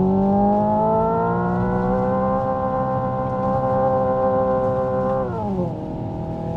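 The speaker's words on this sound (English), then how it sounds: "It hits a limiter and waits for the gear." Hyundai Ioniq 5 N electric car playing its simulated engine sound, a loud sustained multi-tone drone that climbs, holds flat at the rev limiter, then drops sharply as the gear changes.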